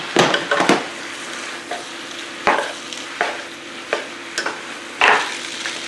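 Sweet potato vermicelli in chicken broth mix with black pepper sizzles steadily in a pan, and close, sharp utensil strokes stir it at irregular intervals with no voices.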